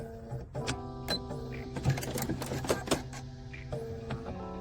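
Bernina sewing machine running a satin stitch on quilt block applique, a close, steady mechanical whir with short bursts and pauses and a brief reverse between runs.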